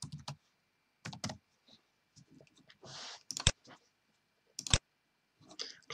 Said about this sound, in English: or you can click on the text and you can type.